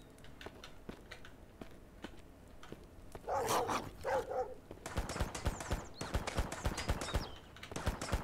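Dog barking in the Mist Survival video game as an attack command is given, a burst of sharp repeated barks and scuffling up close, followed by rapid loud gunfire-like bangs.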